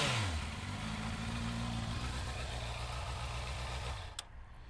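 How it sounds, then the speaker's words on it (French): A 2019 Honda CBR650R motorcycle with its stock exhaust runs close by, a steady mid-pitched engine note that drops as it settles toward idle and holds evenly before cutting off near the end. "je voulais vous parler quand même de l'échappement d'origine"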